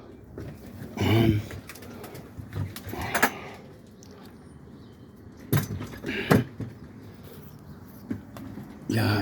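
Boston roller pigeons cooing in a loft, soft low coos recurring through the scene alongside handling noises, knocks and rustling, with people talking nearby.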